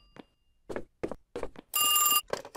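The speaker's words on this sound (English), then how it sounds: "Hey, the phone." In the horror video game The Rainman, a telephone rings loudly with a bright, sustained electronic bell burst after a series of footsteps, the steps thudding in uneven beats before and after the ring.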